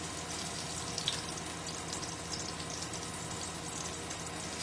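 Herb-seasoned pork sizzles in a pan with a steady, dense crackle of frying that stays even and fairly quiet throughout.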